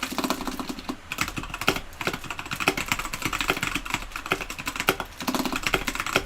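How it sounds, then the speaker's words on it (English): Fast, steady typing on a computer keyboard during a gaming PC build, with dense clattering keystrokes and brief pauses, close and loud, with no talking over it. "I am actually typing, but I'm typing like in my head."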